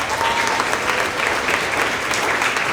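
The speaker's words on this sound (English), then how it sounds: "Another round of applause for all of our science winners" A school end-of-year award assembly for grades 6 to 8 fills with steady, dense clapping from a large audience, loud and continuous throughout with no voices standing out.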